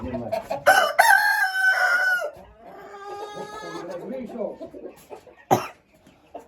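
Chickens in a cage at a home coop, including an Americana hen, giving loud close clucks and a drawn-out crowing call, with a sharp squawk near the end, over quieter background cackling.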